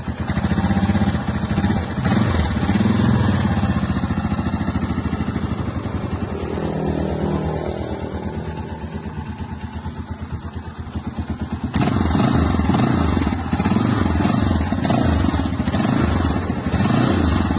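A Yamaha Scorpio motorcycle engine runs nearby with a steady, throbbing idle that shifts in tone partway through, loud and continuous.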